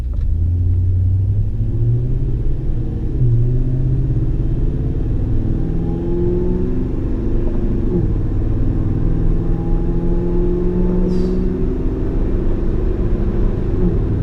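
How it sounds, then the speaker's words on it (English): Toyota Tundra with a supercharger and BAmuffler exhaust pulling away in an easy everyday launch, a deep steady exhaust rumble rising gradually with a faint whine layered above, loud and close throughout. "Just a perfect blend of supercharger whine and exhaust system."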